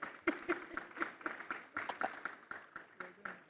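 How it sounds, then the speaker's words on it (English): Scattered hand claps from an audience at an Afri-Caribbean investment summit, a few sharp separate claps at a quiet level with murmuring voices underneath. "Clap for us now"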